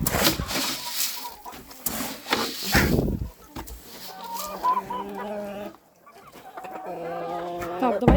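Naked-neck chickens cluck and call close by in a farmyard, with a run of rhythmic clucks mixed with wooden knocks and rustling.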